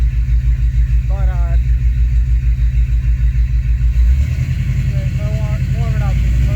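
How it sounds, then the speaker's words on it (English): A 1985 K20 engine rumbles loudly nearby while warming up, its low drone rising and swelling in pitch as it is revved, with brief tonal squeaks over the top. "Let's give it a couple revs, I'll warm it up."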